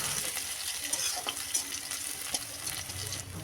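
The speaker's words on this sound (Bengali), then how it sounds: "তেল গরম করে তেলে শুকনো লঙ্কা, কালো জিরে, কাঁচা লঙ্কা, থেতো করা রসুন লালচে করে ভেজে নেব।" Dried chillies, nigella seeds, green chillies and crushed garlic fry in hot oil in a wok, giving a steady close sizzle with the soft scrape of stirring throughout.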